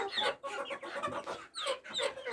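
Chickens clucking and chirping in a busy, overlapping chorus, fairly close, with no talking.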